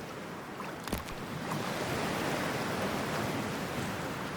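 A character enters toxic, freezing water in Cyberpunk 2077: a soft splash gives way to a steady, close rushing wash of water that fills the whole moment.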